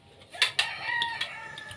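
A rooster crows close by in a lively bright call, with a few sharp bursts followed by a sustained drawn-out note and some background clamor.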